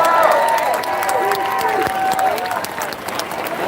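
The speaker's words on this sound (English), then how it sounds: "Let's all give a round of applause for Paula" An outdoor freedom rally crowd in Vancouver applauds and cheers steadily, with whistles and a general crowd roar throughout.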